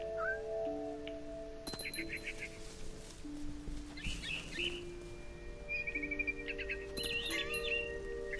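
Cat meows in the video game What Remains of Edith Finch, several short tonal calls with bird-like chirps scattered over a steady game music bed, fairly close and moderately loud.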